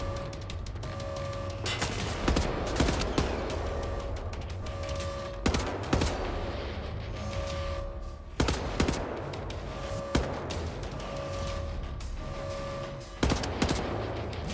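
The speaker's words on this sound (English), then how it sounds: "I think I'm also being shot at by something." Turret gunfire in Wolfenstein: The New Order, repeated bursts of heavy automatic fire with sharp loud impacts every couple of seconds over a sustained mechanical drone.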